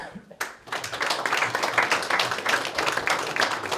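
A crowd applauds a county supervisor at a Hmong American Center grand opening: dense, sustained clapping that rises sharply and holds steady for several seconds, with faint voices mixed in.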